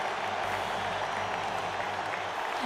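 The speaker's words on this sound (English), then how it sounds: "The crowd broke into thunderous applause" Steady crowd applause fills a game scene in Radiant Tale, a dense, even clatter of many hands heard at a moderate distance for a few seconds.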